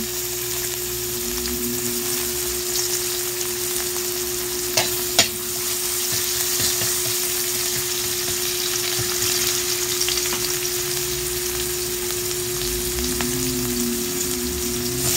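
Garlic frying in a pan for fish sinigang in miso, a steady dense sizzle running the whole way with a couple of sharp utensil clinks and stirring noises partway through, no one speaking.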